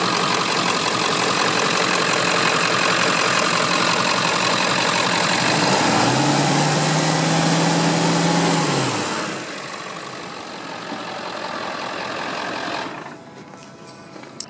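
A Power Stroke turbo diesel engine roars at high revs, then rises in a sustained pull before dropping back to a steadier, quieter run and finally settling lower; loud and close, with no talking.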